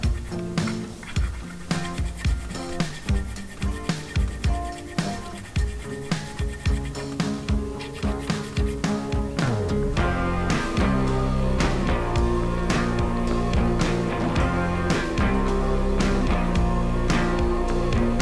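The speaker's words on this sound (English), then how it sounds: "we're going to use these small files and file it out" Steady rasping strokes of small files on a steel file being made into a dagger, filing out drilled holes, rhythmic and close, with a dense continuous scraping layer building up over time.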